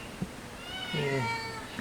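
A cat meows twice in a home, a short faint call followed by a longer, louder drawn-out meow, over a low background with no talk.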